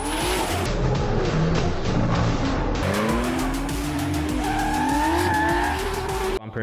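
A 700-horsepower 2JZ-powered Nissan S14 drift car slides at a drift event, its engine droning loud and continuous while tires squeal in long rising and falling wails, the noise cutting off abruptly at the end.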